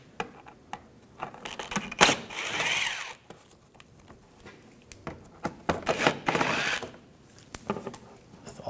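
A T25 socket backs out the panel screws on a 2010-2014 Volkswagen GTI 2.0 L4, giving two bursts of ratcheting clicks with metallic clinks and small handling noises in between.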